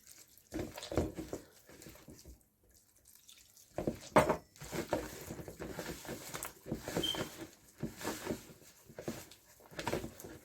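Lukewarm water poured into flour for samosa dough, giving soft intermittent dripping and splashing with some mixing noise, fairly close and quiet, with no talk.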